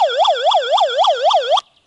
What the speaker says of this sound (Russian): В каких-то экстренных сложных ситуациях можно воспользоваться такой сиреной.